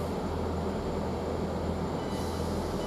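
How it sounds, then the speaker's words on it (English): A passenger train rumbles steadily through Basingstoke railway station, a continuous close roar of wheels and carriages on the rails with no one talking. "we've got another train going the other way"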